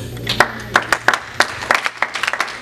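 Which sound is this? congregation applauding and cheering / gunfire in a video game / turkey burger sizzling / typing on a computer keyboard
congregation applauding and cheering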